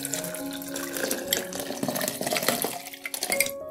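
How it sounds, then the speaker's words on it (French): Water pours into a pot with a continuous splashing, gurgling flow close by, steady and fairly loud, then it cuts off at the very end. "on va ajouter 8 verres d'eau là dans le pot"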